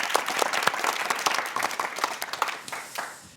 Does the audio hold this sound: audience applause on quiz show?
yes